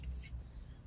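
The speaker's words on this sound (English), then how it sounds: "My scissors are getting very dull." A few quiet, crisp snips of dull scissors cutting, spaced irregularly, near and alone.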